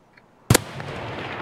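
A single sharp gunshot from Escape from Tarkov cracks out loudly after a brief quiet lead-in, followed by a short fading tail.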